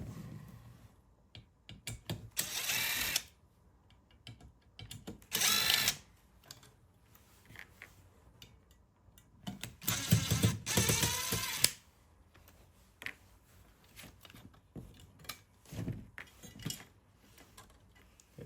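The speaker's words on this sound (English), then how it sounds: "Now we're going to take these screws out." A power screwdriver backs screws out of a Ram truck dashboard during a stereo install, sounding as several short whirring bursts separated by quiet handling and faint clicks, close and alone.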